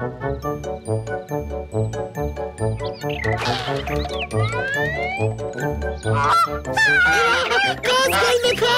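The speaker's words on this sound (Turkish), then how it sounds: "Kaz geldi kaz!" Cartoon geese honk loudly and repeatedly over a rhythmic tinkling musical backing, the calls growing busier and more overlapping toward the end.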